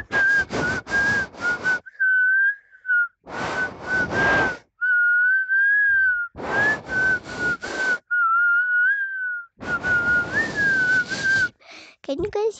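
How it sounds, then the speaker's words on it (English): A person whistling a wavering tone in several sustained phrases, alternating with loud bursts of noise, the whistle fairly close and clear between them. "Can you guys hear me whistle?"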